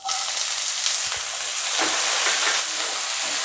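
Peas for samosa filling fry in a hot pan, giving a steady, dense sizzle with faint stirring scrapes, close and continuous with no talking.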